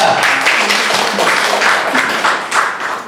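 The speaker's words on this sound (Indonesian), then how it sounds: "Oke, tepuk tangan buat Anda" Loud applause fills a room at a business seminar, many hands clapping in a dense close burst that carries on for a few seconds without talk.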